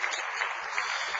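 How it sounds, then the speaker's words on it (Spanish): Congregation clapping in applause for the King at a church service, a dense steady patter of many hands filling the whole short moment without any voice over it. "Denle un aplauso al Rey bendito."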